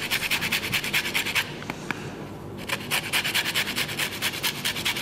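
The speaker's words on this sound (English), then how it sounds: "once we've done the lemon and the orange zest" Lemon and orange peel rasped against a zester in a kitchen, a steady rhythmic scraping in quick repeated strokes, close up, pausing briefly midway before resuming.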